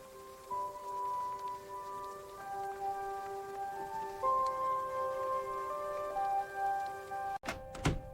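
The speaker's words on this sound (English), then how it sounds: "This rain is relentless." Steady rain patters on the roof of a motorhome, a dense continuous hiss with soft tonal music layered over it, ending with a couple of sharp thunks near the close.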